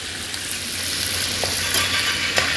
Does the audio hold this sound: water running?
no